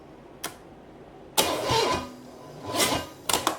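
A big block Chevy 454 V8 that has sat unused for 20 years, cranking over in short bursts: a brief click, then a loud churning spin, another rising crank and a final stuttering burst, with no voices.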